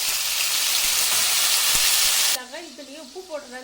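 Tomatoes hit hot oil for a Tamil rasam, giving a loud, dense, continuous sizzle that cuts off abruptly partway through and gives way to a quieter kitchen where someone speaks.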